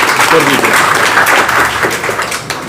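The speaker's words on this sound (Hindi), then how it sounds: "इनके नाम पर भाई फिर से ताली मत बजाइए।" An audience at a coaching class event claps steadily for a short stretch, a dense, even wash of applause heard close and loud throughout.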